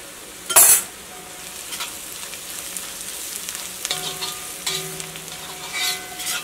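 Turmeric and coriander powder roast in a pan for a Kerala chicken roast, a soft steady sizzle broken by a sharp clink of a utensil and some quiet stirring scrapes.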